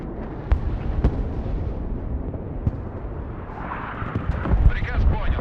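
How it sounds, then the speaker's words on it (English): Air-to-ground missiles fired from a Su-34 in the war game Broken Arrow, a string of deep booming blasts and sharp pops at close range over a rumbling background, with a burst of whooshing toward the end and a voice speaking throughout. "air to ground missiles on that bad boy"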